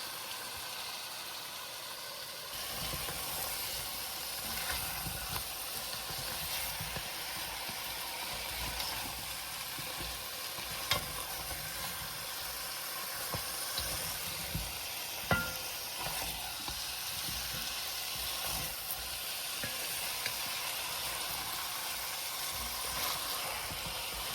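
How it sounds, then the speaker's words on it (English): Lamb and potatoes sautéing on low heat in a pan for curry, a quiet steady sizzle running the whole time with occasional faint clicks. "We're going to let this saute on low"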